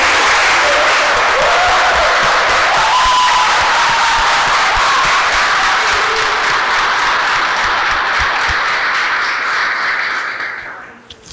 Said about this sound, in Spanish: sí, creo que da para un aplauso, ¿no?